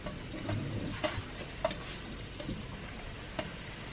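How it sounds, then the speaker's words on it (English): Red and white onions fry in a pan in oil and a large knob of butter, giving a low, gentle sizzle with sparse soft ticks and pops. "I shall just put my onions in"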